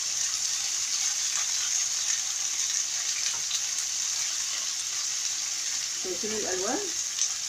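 Marinated shish tawook sizzles in a very hot pan with a constant loud frying hiss, while someone speaks briefly near the end.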